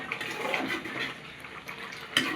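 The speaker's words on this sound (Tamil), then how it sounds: "உங்களுக்கு தண்ணி எந்த அளவுக்கு தேவையோ அந்த அளவுக்கு ஊற்றிக்கோங்க" Water poured into a pan of simmering chicken gravy while cooking, a soft running splash and trickle lasting a couple of seconds, with a brief louder splash near the end.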